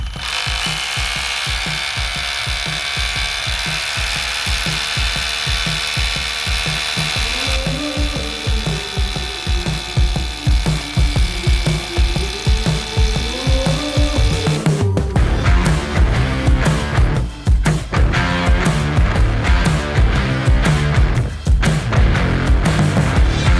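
A Bosch GBH 185 LI cordless rotary hammer drills with an 8 mm bit, up close, in a loud continuous motor whine with rapid hammering; the impacts grow rougher and more percussive as the bit bites deeper.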